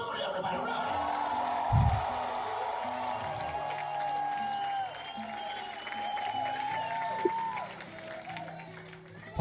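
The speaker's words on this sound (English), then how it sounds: "The crowd, there's 500 people going, Rudy!" About 500 people in a crowd cheer and clap for Rudy, a steady roar of applause and whoops that stays loud throughout. Tonal sounds run underneath, and one brief, heavy thump stands out early.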